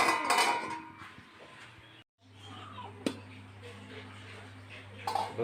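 A metal lid is set onto a pot of simmering lentil curry with spinach, giving a couple of short clinks over a steady low kitchen hum.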